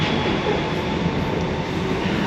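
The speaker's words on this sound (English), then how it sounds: "This train is for Howth." A commuter train bound for Howth in Dublin rumbles steadily and loudly as a close, continuous roar of wheels and carriage noise, with no pauses.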